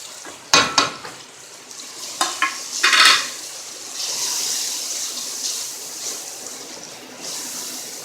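Chili and spices frying in a pan with softened tomatoes and onions for mash daal, a steady sizzle broken by a few sharp clinks and scrapes of a stirring spoon early on.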